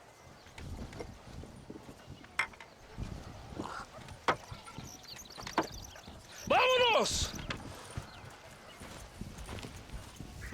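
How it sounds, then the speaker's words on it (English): Horse hooves clip-clop in rhythmic bursts within a Red Dead Redemption scene, heard under a man's speech with a brief exclamation, steady moderate loudness with occasional sharper thumps. "You can take your horse or ride on the wagon."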